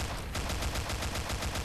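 Sustained automatic fire from a Tar 21 rifle in a video game, a rapid, steady stream of loud, evenly spaced shots with no pauses and no voices.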